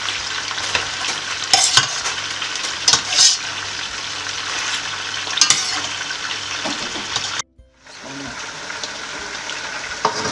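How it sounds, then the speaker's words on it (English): Meat for a stew fries in a pot, giving a continuous loud sizzle with clinks and scrapes of stirring, and a brief drop to near silence before the frying resumes. "Okay, so all the meat has gone in."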